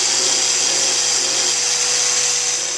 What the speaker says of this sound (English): Once I'm done brushing it off with the angle grinder